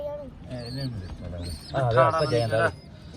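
Pigeons coo in soft, repeated throaty calls, with some faint chirps and background chatter mixed in.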